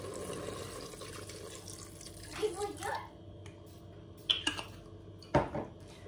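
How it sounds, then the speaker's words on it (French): Broth is poured into browned meat and carrots inside a Cookeo multicooker, giving a few short, close liquid splashes and gurgles over a low steady hum. "De là je vais rajouter à l'intérieur la moitié de mon bouillon."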